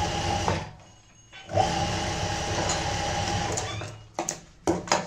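A sewing machine stitching a zip onto a small fabric pencil pouch, a close, steady mechanical whirr with a brief pause near the start and several short bursts of stitching at the end, no talking.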